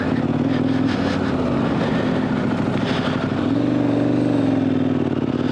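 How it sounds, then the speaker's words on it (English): Dual sport motorcycle on adventure tires climbing a mountainside in first gear from a standstill, a loud continuous engine drone with a slight rise in pitch toward the end, close and constant throughout. "I'm going to show you what this looks like going up the mountainside here in first gear from a standstill at the bottom"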